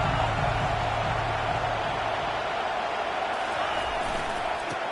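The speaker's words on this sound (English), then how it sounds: "This crowd knows this defense needs them right now." Stadium crowd noise from the College Football 25 video game, an Ohio State at Florida matchup: a steady, loud, continuous roar of the crowd with no breaks.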